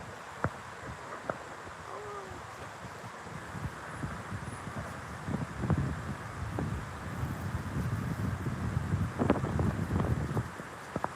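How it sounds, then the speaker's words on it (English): Wind gusting around the corner of a building outdoors on a street, a broad rushing roar with microphone buffeting that builds toward the middle and stays strong, with brief rustling bursts and no speech. "The wind started picking up right there at the corner of the building."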